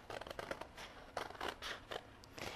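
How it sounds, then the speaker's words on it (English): Scissors snip along the edges of paper letters for a collage, a run of quick, crisp cuts in uneven bursts, close and fairly quiet with no voices. "And just cut right along the edge here, as close as you can"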